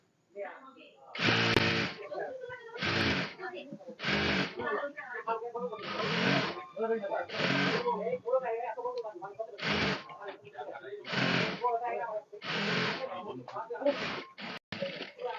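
A sewing machine stitching the waistband fold of boys' shorts, about a dozen short even bursts of whirring, each lasting under a second, with someone talking between and over them.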